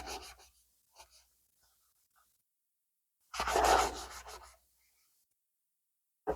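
Cloth rubbing and cleaning grime from a guitar fretboard along the frets: a few faint scrubbing strokes, then one louder, close rasping rub lasting about a second, with quiet gaps between.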